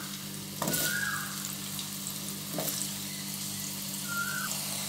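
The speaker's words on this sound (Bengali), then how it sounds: "এবার এই তেলের মধ্যেই আমি আলু দিয়ে দিচ্ছি।" Washed, unseasoned potato pieces fry in hot oil, giving a steady, close sizzle with a couple of sudden louder bursts as pieces are stirred or added, plus faint brief whistling tones.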